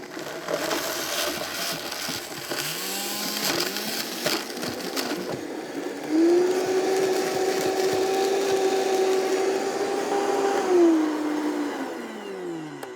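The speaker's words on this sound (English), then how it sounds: "I'm gonna put them right into the blender, and we're just gonna process them into a very fine powder." Kitchen blender grinding dried seasoning into a fine powder, a loud continuous whirring roar that rises to a steady high motor whine midway before spinning down.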